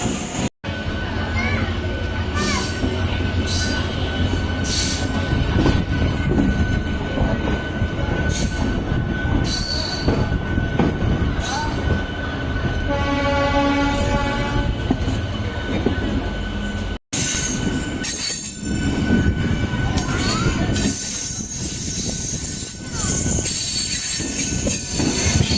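A Tirupati–Pondicherry MEMU train runs loudly along the line, wheels squealing with a sustained high-pitched screech over rumbling rail noise and clatter, broken by a couple of brief dropouts.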